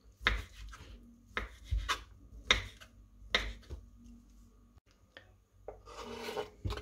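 Several sharp knife chops cutting chicken into cubes on a cutting board, spaced irregularly, close by and fairly clear, with a brief scraping sound at the end.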